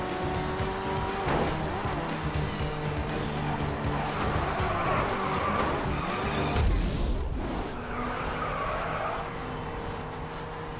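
A race car in GRID 2 drives hard with a constant engine roar that rises and shifts through the gears, and its tires squeal and skid around corners, loud and close throughout.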